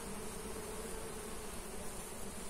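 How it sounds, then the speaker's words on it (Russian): A swarm of bees hums steadily near a house, a dense, continuous buzzing drone with no voices. "И в доме слышен этот гул пчел."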